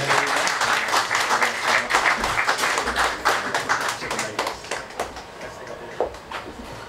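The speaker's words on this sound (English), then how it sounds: "Huge round of applause for Nick." An audience gives a round of applause at a motorsport partner presentation evening: dense, sustained clapping from many hands, loud and close, thinning slightly toward the end, with faint voices mixed in.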